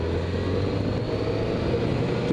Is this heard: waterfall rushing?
no